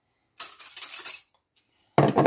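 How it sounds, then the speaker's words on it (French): Sugar pours into a bowl as a short rattling, hissing grainy rush, then a brief pause and a second louder pour, close by with no talk. "je vais renverser mon sucre dans un bol"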